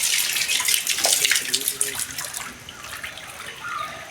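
Water gushes from a tap into a fish tank being refilled, a loud steady splashing rush that softens and thins out over the last couple of seconds.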